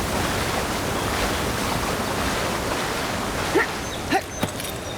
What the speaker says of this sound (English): this is the biggest waterfall we've seen yet